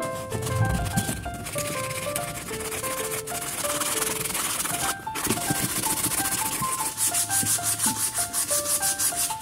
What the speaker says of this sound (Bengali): আমি পুরা ক্যালকুলেটরটাকে অনেক ভালোভাবে স্ট্যান্ড পেপার দিয়ে ঘষে নিয়েছি